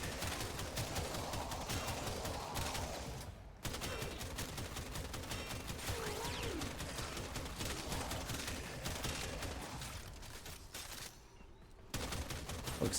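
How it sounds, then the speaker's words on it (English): Warframe weapon alt fire launching a disc, a dense stream of rapid, loud gunfire bursts that runs almost continuously, broken by a short pause near the middle and a brief dip toward the end. "This time I'm going to right click and shoot at the disc."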